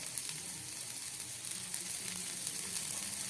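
Grated ginger, chopped green chili and spices fry in butter in a pan for a potato and pea puri filling, giving a steady, quiet, close sizzle.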